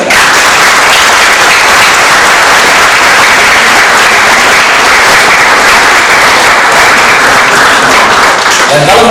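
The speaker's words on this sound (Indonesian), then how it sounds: "Mari sekali kita memberikan aplaus untuk mereka" Loud, sustained applause from a wedding congregation for a newly married couple, dense clapping running steadily throughout with a faint voice or two underneath.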